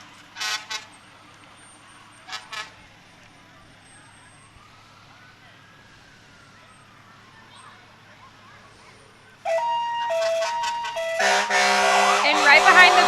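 A Birdseye Volunteer Fire Department fire truck in a parade, first a faint rising and falling siren wail behind occasional talk, then loud horn blasts and a blaring siren close by near the end.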